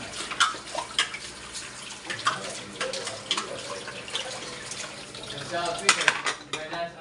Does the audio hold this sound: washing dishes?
yes